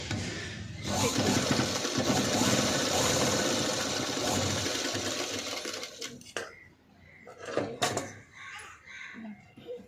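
Sewing machine running continuously while stitching the front of a padded blouse, a loud steady whir for several seconds that then stops, followed by a few scattered clicks and handling knocks.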